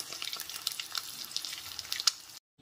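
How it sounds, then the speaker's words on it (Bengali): Eggs frying in hot oil for a spicy Bengali egg kosha, giving a steady close crackling sizzle with scattered sharper pops, ending abruptly in silence. "একটু সময় নিয়ে ডিমগুলোকে ভেজে নিয়েছি"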